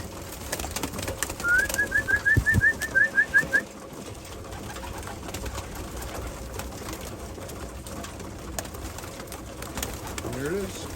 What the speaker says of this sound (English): I'm gonna go on the inside and call it as if I'm feeding the birds